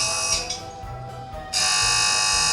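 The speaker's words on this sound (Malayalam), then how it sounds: "അലാം വന്നിട്ടുണ്ട്." A game alarm in Poppy Playtime blares in a loud, steady electronic tone, dropping out briefly in the middle and then returning at full strength.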